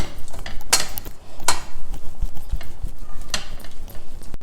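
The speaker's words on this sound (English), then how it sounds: "Just mash it well with the back of a spoon." A spoon presses and mashes cooked dal in a pot, giving a few sharp metallic clinks against the pot over a steady background hiss.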